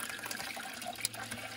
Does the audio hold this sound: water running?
yes